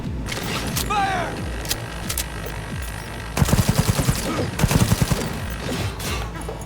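Gunfire in Cyberpunk 2077 combat comes as rapid automatic bursts of loud, close shots, with a chirping electronic effect at the start and mechanical clatter between volleys.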